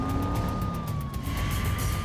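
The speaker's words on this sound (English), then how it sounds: "the officer turns on the siren and accelerates through traffic" A police car siren wails steadily as the car accelerates through traffic, the tone held near and loud over rumbling engine and road noise.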